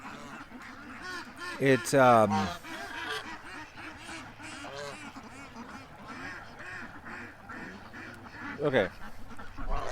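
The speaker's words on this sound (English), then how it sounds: "The goose. What do you want, goose?" Domestic waterfowl give a loud burst of honking calls, then another short call near the end, over steady outdoor background noise with people talking nearby.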